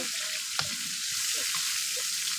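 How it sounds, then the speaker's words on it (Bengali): Prawns frying in a pan give a continuous close sizzle of hot oil, with a single sharp tap and a few faint clinks of a utensil against the pan. "এই দেখুন বন্ধুরা চিংড়ি মাছ ভাজা হয়ে গিয়েছে, এবার আমি তুলে নেবো।"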